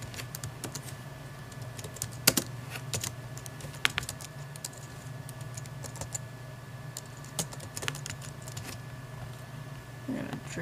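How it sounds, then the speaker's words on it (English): A computer keyboard being typed on, giving soft, irregular key clicks at close range over a low steady hum, with faint voice present. "You're gonna type basically in whatever you want."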